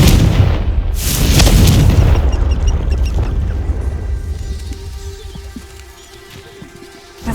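A Confringo blasting curse erupts in the game Hogwarts Legacy as a heavy booming explosion, loud at first and then rolling away into a long fading rumble with scattered debris crackles and no voices.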